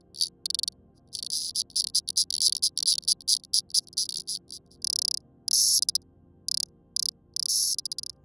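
A synthesized insect chorus of crickets and cicadas, made of rapid bursts of high, buzzing clicks that start and stop in irregular pulses over a faint steady background bed.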